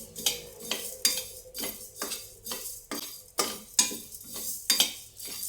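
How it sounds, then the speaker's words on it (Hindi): Green chillies warming in a pan over a medium flame, with about a dozen sharp metallic scrapes and clinks of a spoon stirring against the pan at a steady rhythm, close and fairly loud, with no talking. "मीडियम फ्लेम पे इनको हम हल्का सा गरम करेंगे, भूनना नहीं है हमें,"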